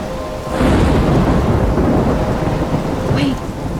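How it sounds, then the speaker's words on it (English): A thunderstorm in the Life Is Strange video game: heavy rain pours steadily while deep thunder rumbles loudly throughout, with no voices. "I'm trapped in a storm?"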